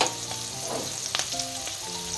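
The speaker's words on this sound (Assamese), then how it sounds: "এইখিনি অকণমান ভাজি ল'ম।" Spices sizzling in hot oil in a pan for mango pickle, a close, steady frying crackle with a few scraping stirs.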